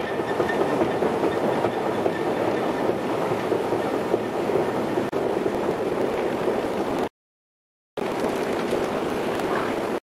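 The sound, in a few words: metro train arriving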